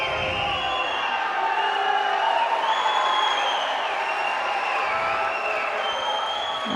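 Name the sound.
crowd screaming at Turkish-Dutch judo bout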